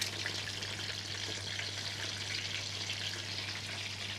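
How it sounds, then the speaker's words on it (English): Food bubbles and boils in a pan with a continuous soft sizzling hiss and a low steady hum beneath, close but fairly quiet, with no talking. "So you can see how that's bubbling and boiling away."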